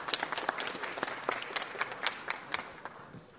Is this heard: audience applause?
yes